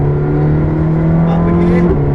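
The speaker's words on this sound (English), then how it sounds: "Up a gear, let it run wide and begin to accelerate." A McLaren 620R on the Silverstone circuit accelerates under load, its engine holding a steady, loud drone with a slight climb toward the end, running continuously beneath an instructor's voice.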